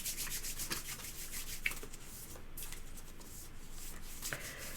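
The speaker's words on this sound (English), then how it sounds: "You can shuffle them up a little for me." Tarot cards being shuffled by hand, close and quiet: a continuous soft rubbing and riffling with small flicks and slaps spread evenly over the whole stretch.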